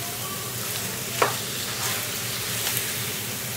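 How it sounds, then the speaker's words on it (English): Chicken stirred with masalas in a hot pan for a Maharashtrian chicken curry, a steady loud sizzle with a spoon scraping through, one sharp clink of utensil on pan, close and alone. "Mix it with the masalas properly."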